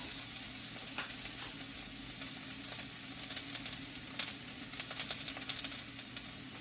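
Onion sautéing in hot oil for a bean sprout and eggplant dish with meat, a steady soft sizzle with scattered crackles and pops growing slightly busier toward the end, no talking.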